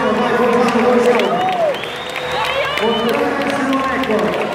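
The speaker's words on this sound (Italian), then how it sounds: "Dai, un applauso a Corzano" A crowd applauds and cheers at a 2018 swimming race in Bozen, a 100 m butterfly heat, with the steady ovation running the whole stretch beneath an announcer's voice.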